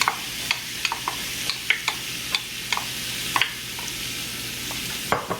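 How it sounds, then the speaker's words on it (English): Onions sauté in butter in a pan for chicken gnocchi, a constant close sizzle punctuated by frequent sharp clicks and scrapes of a utensil stirring, with no speech. "I'm gonna go ahead and add my butter and go ahead and add my onions."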